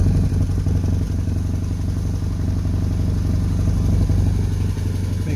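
A Honda N600 engine runs with a newly fitted exhaust pipe, producing a steady, loud, close-up idle with a low throbbing pulse and some light mechanical clatter throughout.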